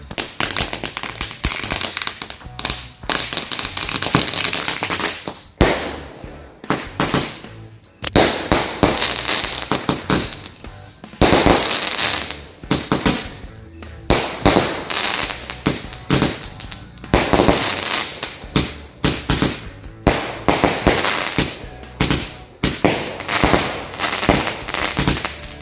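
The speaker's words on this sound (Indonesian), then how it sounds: "yang pertama langsung kita nyalain 4 buah mercon Roman candle sekaligus" Several Roman candle fireworks fired together at night, a dense barrage of loud cracking pops and bursts that continues without a break, close by and overlapping.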